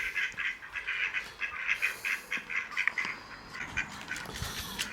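Ducks quack in a rapid, uneven series of calls nearby, steady through the moment with no talking.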